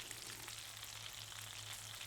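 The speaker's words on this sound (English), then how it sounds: "I can hear that the pan is getting hotter by the frying." Danish meatballs (frikadeller) fry in a hot pan with a steady, dense sizzle that holds evenly throughout with no pauses, close up and with no one talking.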